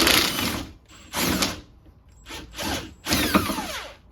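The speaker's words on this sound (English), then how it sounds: "So luckily there's a place to put a wrench back here." Ratcheting wrench on a Honda CR-V rear stabilizer link, loosening the fastener while aftermarket links are swapped out. Several short bursts of close, loud clicking separated by brief pauses, with no talk.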